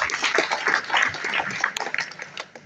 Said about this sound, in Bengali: জোরে একটা হাত তালি যায় না?